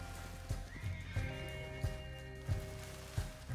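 A horse whinnies with a rising, drawn-out call while hooves clip-clop in a steady, moderate rhythm nearby, in the video game Red Dead Online.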